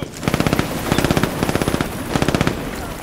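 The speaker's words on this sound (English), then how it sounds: "I can't use this burst fire weapon." Short bursts of automatic fire from a burst-fire weapon in the shooter Brink, four clear volleys of rapid rounds in a steady rhythm, loud and close over a constant battle din.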